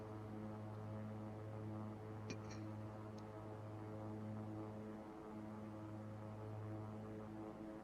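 A propeller airliner engine drones in a flight simulator game, a steady low harmonic hum holding evenly throughout with a brief faint click partway, quiet and continuous with no talking.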